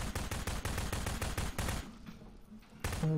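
Rapid automatic gunfire from Garry's Mod Prop Hunt rattles in a fast burst of close shots for almost two seconds, then a short pause and another loud shot at the end.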